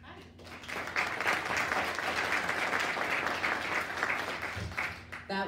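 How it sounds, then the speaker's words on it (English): Sustained applause from an audience at a panel and networking event in New York City, loud and steady throughout, with some talk mixed underneath near the end. "Let's give them one more round of applause"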